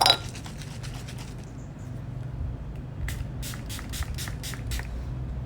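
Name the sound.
Careline Fresh Fix setting spray shaken and sprayed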